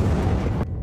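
A heavy anime explosion as Pochi fires an electric ball, a dense booming roar with quake-like rumble that holds loud for most of a second, then cuts off abruptly, leaving a faint low tail.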